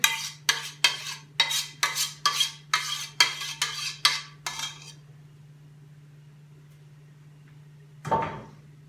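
A spoon scrapes against the bottom of a metal pot of chicken dish ten times in quick rhythmic strokes, then silence, followed by one final scrape.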